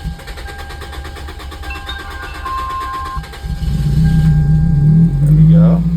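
A 2003 Toyota car engine, just after a throttle body cleaning, cranks and catches, settling into a steady idle with a deep rumble, alongside a faint electronic whine.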